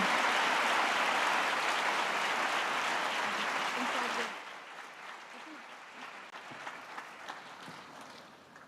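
An audience applauds new MBBS students in a large hall, dense steady clapping for about four seconds that then drops to softer, thinning claps and room murmur.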